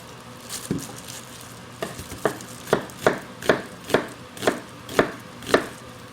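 Knife chopping onion into thick pieces on a cutting board for tomato soup, a steady series of about ten crisp, close chops that grow more regular, with faint sizzling in the background.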